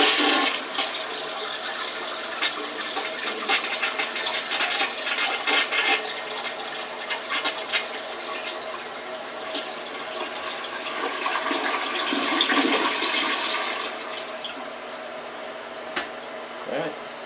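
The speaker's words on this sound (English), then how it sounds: "We're gonna flush the toilet." A household toilet flushes in a long, loud rushing swirl of water that drains and refills for over fifteen seconds, with faint voices underneath.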